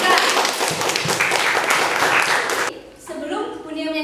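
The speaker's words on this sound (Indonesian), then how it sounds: "Tepuk tangan dulu buat kita." A class of students claps for several seconds, a dense patter of many hands that cuts off abruptly. A voice then speaks.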